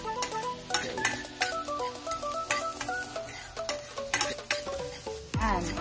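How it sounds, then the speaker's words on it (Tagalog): Garlic and onion sauté in a pan for Filipino bean sprout spring rolls, giving a continuous close sizzle broken by repeated scraping stirs. "sauté garlic and onion."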